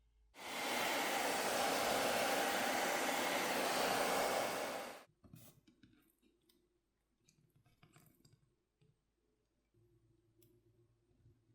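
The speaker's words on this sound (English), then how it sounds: "I prefer to use a hairdryer" A hair dryer heating a tablet screen blows loudly and steadily for about four seconds, then cuts off, leaving faint scattered clicks and taps.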